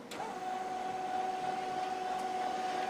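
A 1995 printer warms up after a print job is sent, giving off a steady mechanical whir with a sustained tone and a couple of faint clicks, alone and fairly quiet.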